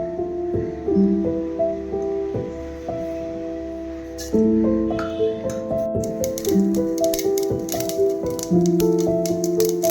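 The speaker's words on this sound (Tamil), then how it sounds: "இப்போ நல்லா கடுகு வெடிக்குது." Mustard seeds splutter and pop in hot oil during a tempering for raw-mango rice, with dense crackling bursts joining in partway through under steady background music.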